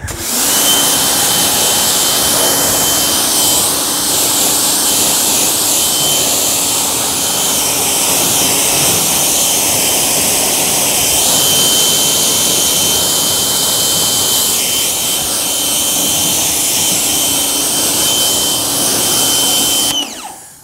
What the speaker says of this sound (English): It's nice that this washer isn't super loud.